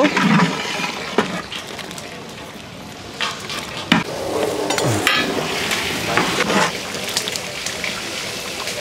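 Chili and cumin powder sizzle in hot oil for a quail curry, with steady frying under repeated scraping and stirring strokes of a spoon against the pan, close and fairly loud.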